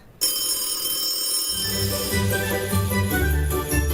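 Telephone bell ringing for a radio station's prize call promo, a sudden bright continuous trill starting loud and steady, joined partway through by low background music, with no talk.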